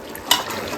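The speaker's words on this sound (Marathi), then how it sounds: "फोडणी चाललेली आहे." Spices crackle and sizzle in hot oil for a tempering in a home kitchen, a brief steady frying hiss with a small stir clink.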